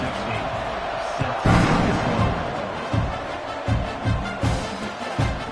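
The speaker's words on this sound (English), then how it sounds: "this crowd is buzzing after that last score" A college football stadium crowd buzzing after a touchdown, a broad, loud roar with thumping bursts, close and continuous with no clear voice over it.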